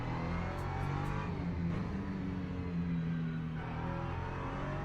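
An LMP3 prototype race car's engine drones steadily at Silverstone in a racing game, a continuous fairly distant hum that rises slightly in pitch, with no voices.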